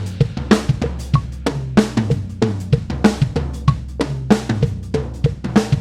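Full-tempo go-go groove on a drum kit, punchy kick and snare accents over a busy hi-hat in a tight repeating pattern, close and loud with no voices.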